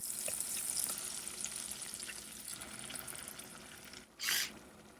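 Garlic fried rice is stir-fried in a pan at a campsite, giving soft continuous sizzling and scraping with a brief louder hiss near the end, and no voices.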